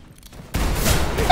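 Gunfire in an online shooter match starts abruptly after a quiet moment, a dense burst of shots that carries on to the end with a louder blast at the close.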